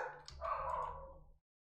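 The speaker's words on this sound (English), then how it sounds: "I'm so sorry about these fucking dogs." A single dog bark sounding in a room during a strategy game livestream, one drawn-out woofing yelp lasting about a second, faint and somewhat distant, ending in silence.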